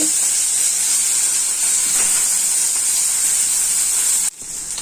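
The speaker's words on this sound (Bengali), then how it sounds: "এইদিকে কড়াই বসিয়ে দিয়েছি, এবার তেল দিয়ে দেব, মাছের মাথাটা ভেজে নেব।" A fish head fries in hot oil in a wok, giving a steady, loud sizzling hiss that holds evenly and then drops sharply near the end.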